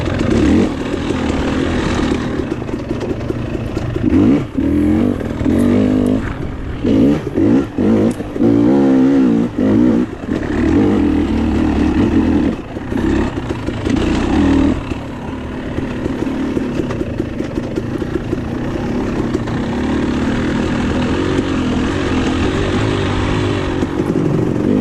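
A 2022 KTM 300 XC-W two-stroke dirt bike is ridden through woods during a hare scramble race, its engine loud and close, revving up and down continuously with rapid throttle changes and no letup.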